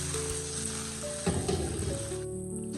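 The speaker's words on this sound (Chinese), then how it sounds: "煎至2分钟左右，豆腐的底部也已经煎至金黄了" Tofu pan-frying in oil until golden, a steady close sizzle with a brief louder crackling burst midway, no talking.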